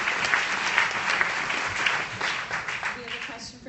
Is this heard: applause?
yes